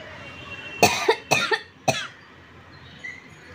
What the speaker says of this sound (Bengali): কান পরিষ্কার করতে গেলে আমার প্রচণ্ড কাশি হয়,